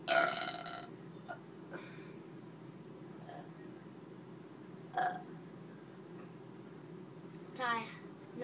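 Loud burps in a burping contest, one strong belch at the start and shorter ones spaced through the clip, with a voice briefly heard between them.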